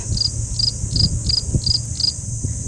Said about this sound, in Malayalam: നിലമ്പൂച്ചയൊക്കെ അലയ്ക്കുന്നതാണ് കേൾക്കുന്നത്